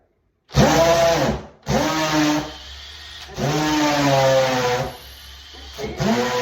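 Power drill running at speed 2 while drilling a hole, in long whining bursts that rise and fall in pitch with brief pauses between, loud and close.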